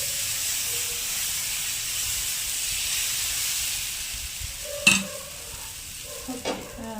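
A dosa fries in butter on a tawa, a steady soft hiss and sizzle throughout with a couple of brief clatters near the end, no talk.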